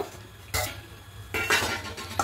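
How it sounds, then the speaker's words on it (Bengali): A metal lid lifted off a cooking pot while making Dhakai paratha, giving a few close clanks and clinks in short separate bursts against quiet background. "এবার ঢাকাটা খুলে নেব"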